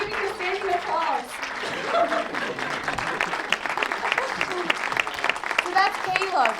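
Standing ovation from a hospital audience at Masire Teaching Hospital, rapid crisp clapping that swells and continues, with chatter and a few laughs under it.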